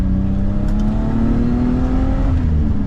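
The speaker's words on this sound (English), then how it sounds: "it can literally go through the revs after putting fresh fuel in it" A 336k-mile BMW E34 M5 barn find, revived with fresh fuel after a year of sitting, revs steadily with a loud, close, sustained engine drone whose pitch slowly rises and falls, with no talking.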